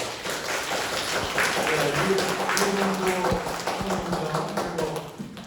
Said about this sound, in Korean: 우리 여러분 박수로 좀 환영합시다